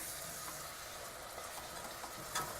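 Steady hissing sizzle of drained chickpeas frying in a hot pan, with a brief clatter near the end.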